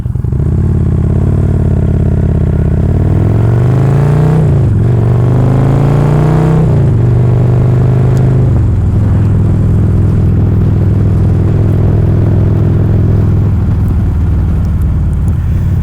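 A Harley-Davidson motorcycle engine rumbles loudly and continuously close by, revving up through gears with deep throaty pulses and steady wind-rush while riding.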